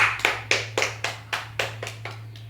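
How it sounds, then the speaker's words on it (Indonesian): A small group applauds in a classroom after a presentation, about ten crisp claps in an even rhythm over a steady low hum, close and clear. "Kepada kelompok 2 kita berikan aplaus dulu terlebih dahulu"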